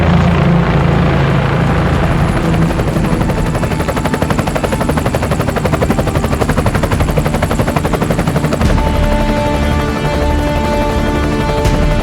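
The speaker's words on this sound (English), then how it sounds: "we use a helicopter." A helicopter flies over a mesa during a markhor hunt, its rotor thumping in a fast, steady chop, loud and close throughout.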